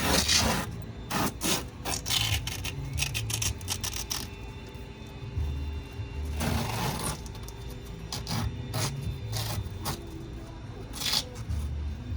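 Backing is peeled off a Velcro strip in a series of close ripping and rasping pulls, with creaks and handling rubs between the tears over about twelve seconds.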